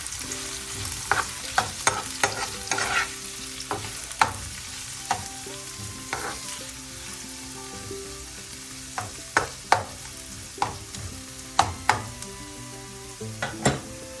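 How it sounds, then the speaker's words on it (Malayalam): Sliced onions and chopped green chillies sauté in a hot pan for a green bitter gourd stir-fry, sizzling steadily while a spatula scrapes and taps the pan in irregular sharp strokes, close up with no voices. "പച്ചമുളക് അരിഞ്ഞിട്ടിരിക്കുന്ന സവാള എല്ലാം കൂടി ഇട്ടൊന്ന് വഴറ്റുക"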